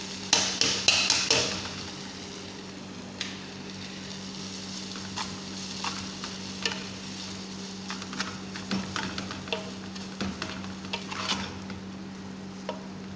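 Vermicelli frying in ghee in a pan, a loud clatter of stirring at the start followed by a low steady sizzle with scattered scraping ticks of the utensil.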